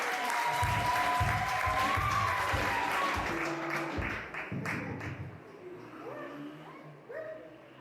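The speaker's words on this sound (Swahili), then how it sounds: "hebu simpigie Bwana Yesu makofi." A church congregation claps for Jesus during a wedding celebration, a loud dense burst of applause that fills the first few seconds and then thins, with voices and singing tones mixed in.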